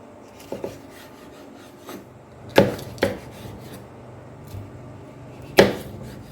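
A knife cuts deseeded red and green bell peppers into strips on a cutting board, giving a few sparse, close thuds and taps spaced irregularly in a quiet kitchen.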